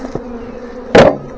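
Honey bees from a large swarm buzzing around a swarm trap, a faint hum followed by one loud close bee zipping past the microphone, no speech.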